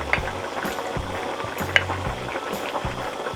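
Balbacua with red bell pepper and black beans fries loudly in a pan, a steady sizzle broken by repeated scraping stirs and light clinks of a utensil against the pan.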